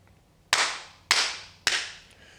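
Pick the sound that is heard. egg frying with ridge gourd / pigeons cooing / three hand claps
three hand claps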